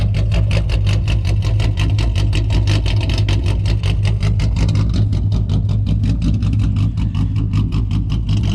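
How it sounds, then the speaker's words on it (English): A car engine fitted with an idle chop mod idles loudly and steadily, its uneven, lumpy chop pulsing in a quick repeating rhythm close by, with no voices over it. "It's getting louder as the car is running now."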